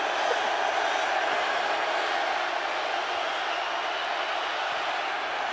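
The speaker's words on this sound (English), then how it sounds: "You hear the crowd getting loud" A stadium crowd roars steadily at a spring football game between St. Louis and Seattle, a dense continuous wash of cheering noise filling the whole stretch at even loudness, with no clear break.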